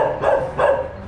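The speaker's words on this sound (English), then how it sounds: "We got the dog just barking around." A small dog gives two short barks close by, loud against a steady background hum.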